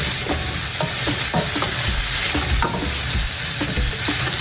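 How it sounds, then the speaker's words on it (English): Peppers and onions fry in a hot pan, giving a loud, steady, close sizzle with scraping stir strokes and no talking. "I'm gonna just add my peppers and all my onions that I cut earlier"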